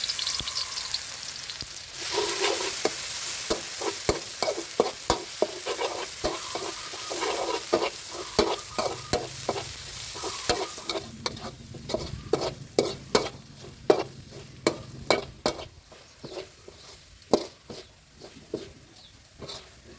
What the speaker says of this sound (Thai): เดี๋ยวเรามาเจียวกระเทียมพริกไทยที่เราโขลกเอาไว้ครับ